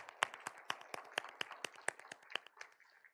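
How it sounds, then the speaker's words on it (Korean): A small church congregation claps to welcome a first-time visitor at a Sunday communion service, a sparse, distinct patter of individual hand claps in a loose rhythm that thins out and fades near the end. "우리 환영의 박수 한번 해주시죠."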